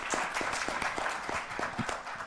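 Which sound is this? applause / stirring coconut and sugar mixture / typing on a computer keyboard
applause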